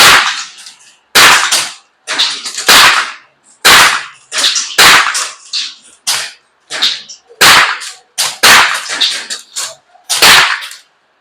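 Air gun shots at targets during the 2024 Iguana Sniper Challenge, a dozen or more sharp, close cracks fired in an irregular string, some in quick pairs, with near silence between them.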